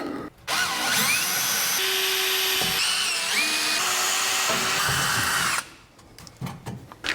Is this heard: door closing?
no